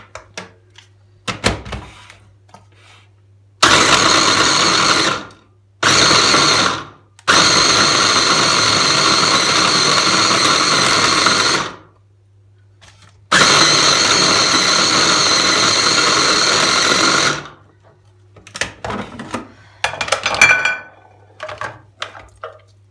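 An electric meat grinder works through partly frozen skinless chicken pieces for Turkish chicken köfte, running loud in three long bursts with short pauses between them and some clattering before and after.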